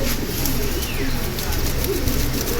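Pigeons coo in a low, repeated rolling murmur, close and fairly loud, among several birds at a seller's stall, with a steady hum of background noise.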